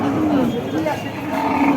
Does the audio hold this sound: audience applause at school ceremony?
no